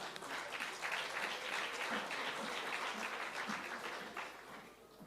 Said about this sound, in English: can you please just give a nice round of applause?